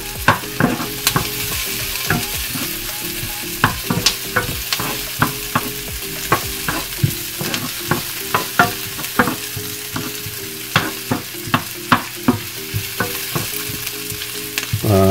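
Lechon de leche sautéed and seared in a hot pan for lechon paksiw: loud continuous sizzle with rhythmic clacks and scrapes of a spatula stirring the meat, alone without talk.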